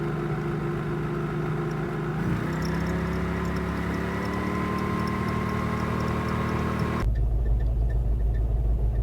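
Former Soviet rocket launcher truck engine idling steadily with a faint ticking, filling its air system; the drone continues with a slight shift partway through and changes sharply near the end, close and constant.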